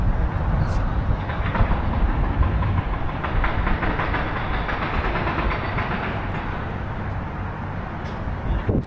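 A Shanghai Metro Line 2 train rumbles loudly and steadily at close range, with continuous rattling and clatter from the running gear and no clear talk over it.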